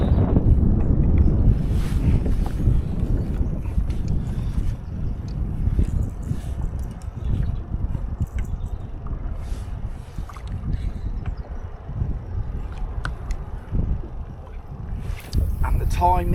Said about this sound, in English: the wind's 7 to 8 miles an hour